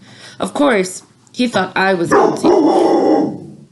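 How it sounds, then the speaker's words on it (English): A dog barks and yips in short bursts close by, mixed in among a man's spoken lines. "Sorry, that was my dog."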